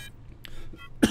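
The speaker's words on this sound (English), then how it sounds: "My God, I've got a tickle in my throat today." A single short cough or throat-clear from a tickle in the throat, close and fairly loud, coming at the end after a stretch of quiet room tone.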